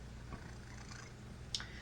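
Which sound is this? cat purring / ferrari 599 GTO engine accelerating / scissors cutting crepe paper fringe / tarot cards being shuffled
cat purring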